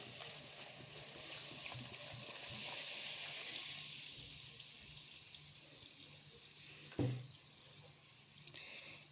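Mineral water poured from a bottle during börek preparation, a steady hissing, bubbly flow lasting several seconds with a small clink near the end, fairly quiet with no voices.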